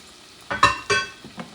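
Chopped onions dropped into hot sofrito in a pan over medium-high heat, a short burst of sizzling and stirring in two quick surges that then settle to a quieter crackle.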